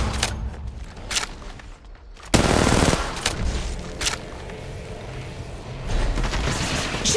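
In-game gunfire in Apex Legends Mobile on Kings Canyon: scattered single shots, then a loud sudden burst of sustained fire, followed by more sporadic reports and impacts at varying distances.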